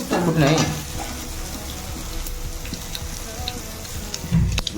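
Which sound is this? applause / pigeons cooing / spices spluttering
spices spluttering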